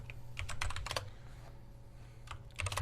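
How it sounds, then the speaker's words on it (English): Close, crisp keyboard typing in short clusters of keystrokes, separated by a brief quiet pause, with no voices. "I'll stop typing because typing is loud on the microphones"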